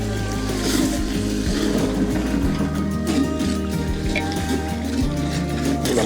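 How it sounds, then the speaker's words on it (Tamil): Half a litre of curd poured into a simmering biryani masala base for country chicken biryani, giving a steady, close, wet rushing and sizzling sound with low rumble throughout. "இப்போ நம்ம தயிர் ஊற்றிடலாம்."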